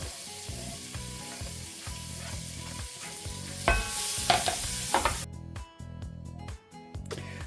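An onion sizzles and crackles loudly in a hot pan, with stirring scrapes and clatters of a utensil over the steady frying hiss.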